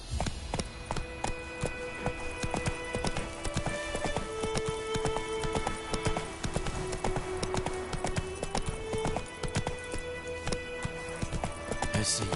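Roach the horse galloping in The Witcher 3, a fast continuous clip-clop of hooves with a neigh, set against music and ambient game sound.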